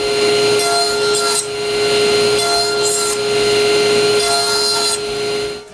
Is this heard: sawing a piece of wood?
yes